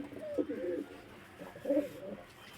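Pigeons coo softly nearby in two short bursts, low throaty calls with a quiet pause between them; a female pigeon sits close by.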